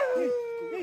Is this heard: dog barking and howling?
yes